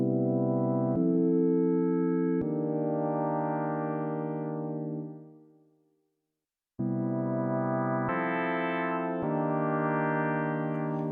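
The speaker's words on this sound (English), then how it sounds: "filter envelope reset, which resets the filter envelope for each consecutive trigger" An Elektron Syntakt synthesizer plays sustained tones with the filter envelope reset on each consecutive trigger. Note changes come in stepped jumps, and one tone fades into silence before bright, buzzy notes resume.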